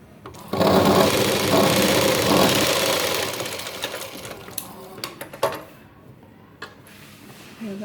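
A sewing machine stitches tucks into a blouse during tailoring, running in a loud, steady whir for a few seconds before slowing into scattered clicks and short bursts.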